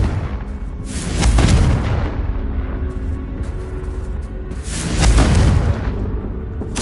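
Two deep booming blasts from the Confringo fire spell in Hogwarts Legacy on PS5 roll out about four seconds apart, each swelling and then fading into a rumbling wash, with no talk.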